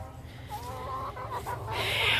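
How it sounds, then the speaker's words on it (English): Free-ranging backyard chickens cluck and call softly at a moderate distance over a steady low outdoor rumble, with a brighter squawk near the end. "I got 4 more eggs from the chickens today, and I'm letting them run loose in the yard"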